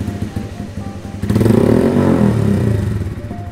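A single-cylinder motorcycle with an aftermarket exhaust idles with a steady low thump, then revs up into a loud, rounded drone for about two seconds before settling back, close up.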